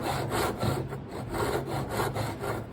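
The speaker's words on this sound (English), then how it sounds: "So I've angled my saw right back now, so I'm concentrating on this line at the back here." Hand saw cutting wood for a halving dovetail joint, with steady rhythmic back-and-forth rasping strokes, close and continuous with no talk.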